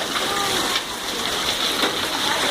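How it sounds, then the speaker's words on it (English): Heavy rain in Lehigh Acres, Florida pours off a roof in a dense, continuous wash of splashing water, steady and fairly close. "Raining like crazy."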